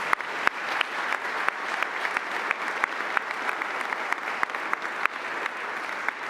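A steady round of applause from a crowd at an anniversary celebration for the COPS Office, dense even clapping with sharp individual claps standing out, sustained for over six seconds.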